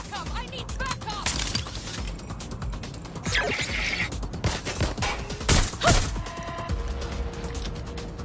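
Gunfire in the video game Watch Dogs: Legion: bursts of sharp shots and clanking mechanical impacts scattered through the scene, mixed with other game effects and voices.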